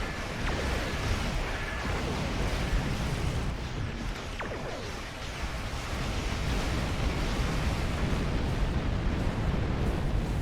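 Continuous roaring rumble of torpedo fire and explosions in Star Trek Online space combat, dense and loud throughout with no pauses and a few faint higher clicks.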